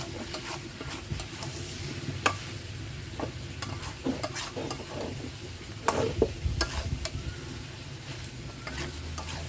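Skin-on chicken pieces with fried potatoes sautéed in a little oil in a pan, a steady close sizzle with scraping stirs and occasional louder clatters of the spatula against the pan.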